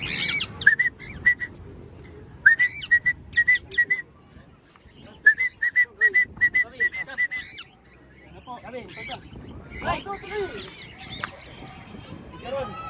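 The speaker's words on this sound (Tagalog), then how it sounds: "Dito magpapalipad ng mga ibon." Pigeons call in repeated bursts of high chirps and whistles outdoors as they are released to fly, with scattered voices and bustling activity around them.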